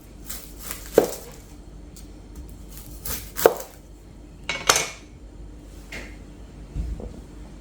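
A knife chopping bell peppers on a cutting board, a handful of separate sharp cuts and knocks spaced a second or so apart, close and clear with no talk.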